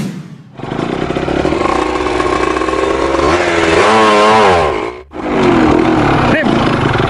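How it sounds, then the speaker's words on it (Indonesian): A motorcycle engine runs loud and close, revving up and down in rising and falling pitch, cutting out briefly near the end before picking up again. No speech is heard. "Kamu itu bisa nggak start ini motor?"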